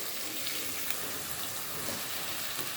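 Carrot, potato and cauliflower frying in a pan for a winter vegetable bhaji seasoned with panch phoron, a steady soft sizzle running throughout with no pauses or talk.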